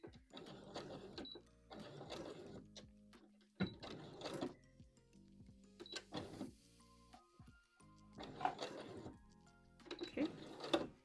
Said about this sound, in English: while we do our forward and our backward stitch